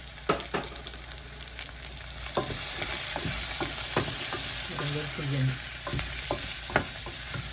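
Steady frying sizzle of spices and turmeric in a pan with scattered stirring clacks and scrapes, close by, with a brief muffled voice partway through.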